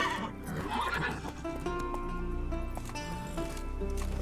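A horse in The Witcher 3 on PC neighs loudly near the start, followed by rhythmic hoofbeats and game music in the background.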